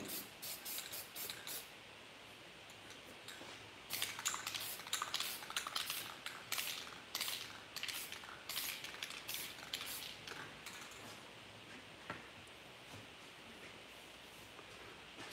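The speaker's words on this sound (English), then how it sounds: "I'm just kind of like flicking my hand like this while gently just finding just where it starts to spray out" Short hissing bursts from a spray paint can during spray paint art, fired in quick light flicks that cluster and repeat, with no speech.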